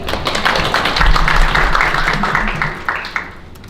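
Audience clapping at a panel discussion forum on webtoon piracy, loud and close, with dense hand claps that fade gradually toward the end.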